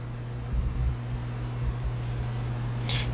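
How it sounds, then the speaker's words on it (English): A Mattison No. 177 oscillating edge sander's 1 horsepower induction motor runs with a steady, low, even hum and faint mechanical rumble, constant throughout with a brief higher rustle at the end. "that's a pretty big 1 horsepower motor"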